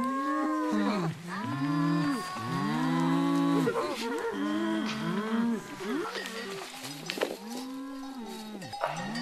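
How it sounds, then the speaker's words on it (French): A herd of cows moo over and over, with long overlapping low calls from several animals filling the whole stretch, loud and close, with no talking. "super, un troupeau de vaches."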